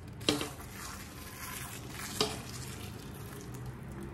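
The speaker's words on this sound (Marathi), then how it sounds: "आता हा गूळ लाडूच्या मिश्रणामध्ये छान मिक्स करून घेते।" A spoon stirs melted jaggery into a moong dal ladoo mixture, giving two clear scraping knocks about two seconds apart over a soft, steady low rustle, close and quiet.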